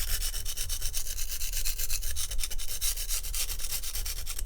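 A steel knife blade with a broken tip is ground on a sharpening stone, making a continuous gritty rasping scrape with quick back-and-forth pulses. The sound is close and steady, and no one speaks.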